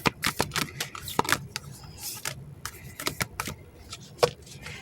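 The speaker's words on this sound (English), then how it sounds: "They're just not the easiest to shuffle because they're in the shape of a heart" Heart-shaped oracle cards being shuffled by hand up close, with quick irregular riffling bursts and soft slaps between quiet pauses.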